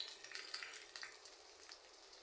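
Dried fish (shutki) frying in oil with onions in a pan, giving a faint, steady sizzle with soft crackling pops that fluctuate gently throughout.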